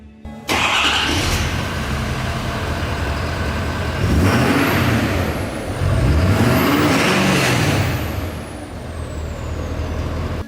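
A stock-exhaust Ford 6.7 Powerstroke diesel truck idles loudly up close, then revs twice in strong rising-and-falling bursts, with air-brake-like hisses around the revs.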